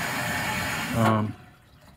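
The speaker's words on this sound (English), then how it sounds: "The hose feels warm, so I think that's hot water flowing" Hot water rushes steadily through a hose into a washing machine, a close, continuous watery flow that swells briefly and then drops off to a quieter trickle, with a voice talking over it.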